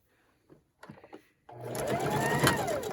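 Close by, a sewing machine starts up and runs steadily while stitching a Christmas table runner, following a few soft handling clicks.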